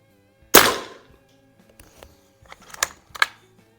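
A Beeman Raider .177 PCP air rifle fires at an outdoor range: one sharp, loud crack, then a few quieter mechanical clicks and clacks spaced out after it.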